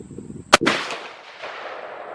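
A single loud .338 Win Mag rifle shot at a shooting range during load testing, a sharp crack followed by a long rolling echo that fades away.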